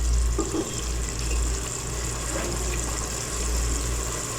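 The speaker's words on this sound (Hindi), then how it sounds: "मैं इसमें तकरीबन 4 कप गर्म पानी के डाल दूँगी।" Hot water is poured into a pot of dal in a home kitchen, a continuous rushing splash over a low hum for several seconds, with no speech.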